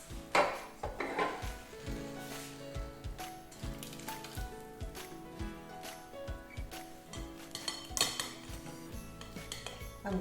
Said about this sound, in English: I'm going to mash all the mixed berries. They're all soft.